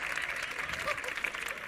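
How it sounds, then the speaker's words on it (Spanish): A dense wash of audience clapping fills a hall for an author and thinker named Antonio Escohotado, steady and close throughout with a few voices mixed in. "un aplauso más para Antonio Escotado"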